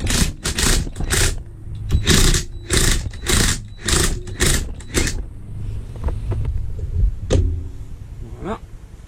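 Rapid bursts of a pneumatic impact wrench loosen the bolt on a rear shock absorber of a car, ending in about five stuttering rattles, followed by quieter clinks and handling of parts close by.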